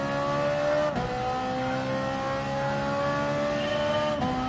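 Ferrari race car engine in Gran Turismo Sport on PS4, a loud, steady high-revving whine that drops in pitch at two sharp gear shifts, with no talking.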